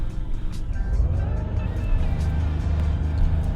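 A Maserati MC20 supercar in a racing video game holds its engine at steady high revs for a launch-control start, a loud, continuous droning roar with slight rises in pitch, close and uninterrupted.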